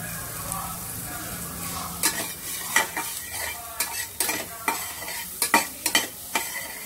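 Onions sauté in butter in a pan for a cluster bean soup, a soft steady sizzle under a run of sharp spoon scrapes and taps against the pan.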